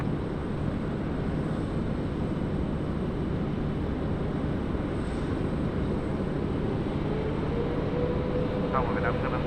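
Airliner rolling for takeoff on a Sydney Airport runway, a steady broad engine roar that holds constant and loud throughout, with a faint radio voice briefly in the background.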